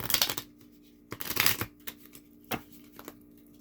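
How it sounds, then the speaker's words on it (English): Tarot cards are shuffled in several quick riffling bursts, close and crisp, followed by a few lighter taps and flicks. "So shuffle these really quick."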